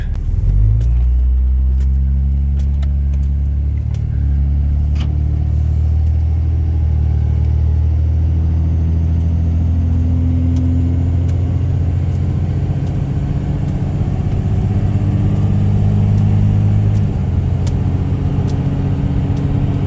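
A 3rd Gen Cummins diesel pickup truck driving into town, with a loud, continuous low engine rumble at a steady pace and light rattles and jingles from inside the cab throughout.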